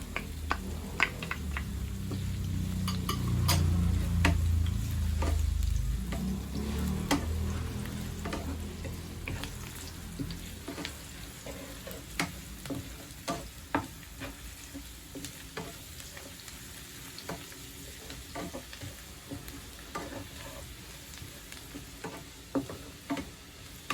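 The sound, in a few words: sautéing garlic in a pan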